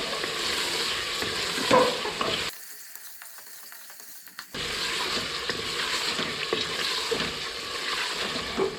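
Chopped potatoes fry with softened tomatoes in a pan, a close sizzling hiss that drops away for about two seconds and then returns, with light stirring sounds and no speech.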